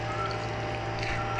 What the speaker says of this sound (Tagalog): Tapos, uhugasan po natin siya ng tubig.